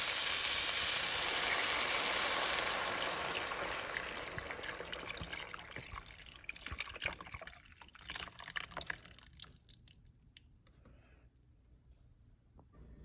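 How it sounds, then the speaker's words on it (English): Half and half pours into a pan of sautéed mushroom cubes for a vegetarian fettuccine Alfredo, a steady liquid rush and trickle at first that thins into scattered drips and faint clinks as the pour tapers off. "Afterwards, we're gonna add 1 quart of half and half."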